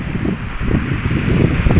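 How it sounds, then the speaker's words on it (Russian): Steady low rumbling wind buffeting the microphone, with gusty surges throughout and no voices. "Ветер у нас,"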